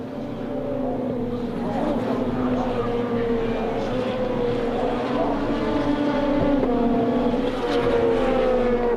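BMW and Seat touring cars race at Magny-Cours during a 2006 WTCC event, engines droning loud and steady with shifting pitch as cars pass, a continuous close-up roar across the whole stretch.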